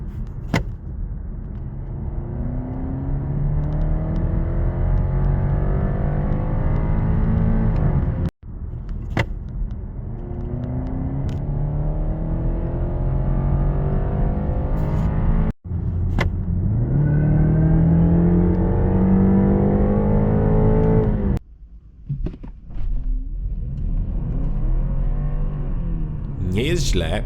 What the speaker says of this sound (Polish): w trybach elektrycznych wydaje właśnie dźwięki statku kosmicznego